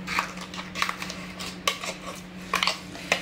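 Spice paste goes into hot oil for a Maharashtrian horse gram curry, heard as repeated metal spoon scrapes and clinks against a pan over a steady low hum, with sharper clatter bursts near 1.7 and 2.6 seconds.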